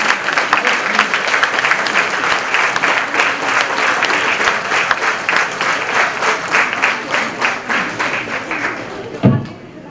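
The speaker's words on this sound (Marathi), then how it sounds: "जोरदार टाळ्या होऊ दे" A felicitation audience breaks into loud, sustained applause of many hands clapping together, close and dense, tapering off toward the end with a final thump.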